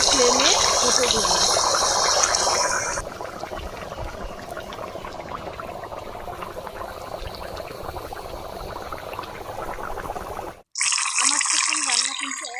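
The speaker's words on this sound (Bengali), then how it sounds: "এবার ঝোল দিয়ে দিব" Liquid broth pours into a pan of simmering chicken curry, a steady bubbling, splashing wash that fills the first seconds loudly, then settles into a softer continuous boil with a brief bright burst near the end.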